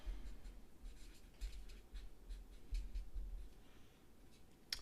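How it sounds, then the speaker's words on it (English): Faint scratching strokes of handwriting sound as someone writes out math notes, soft and irregular against a quiet background. "I'm going to write all real numbers."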